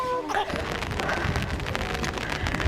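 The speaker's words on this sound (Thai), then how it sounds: "ต้องเอาร่มไปด้วยเพราะว่าฝนตก" Steady outdoor rain falls, a constant broadband hiss of drops spread evenly throughout with no clear gaps, and brief faint sounds of movement show near the start.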